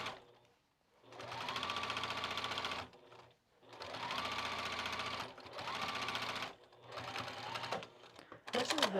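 A sewing machine stitching kite pants runs in three steady, even bursts of rapid stitching separated by short pauses, close and clear, with a few soft handling clicks at the end.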